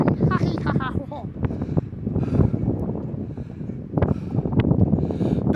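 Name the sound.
wind blowing while hiking in woods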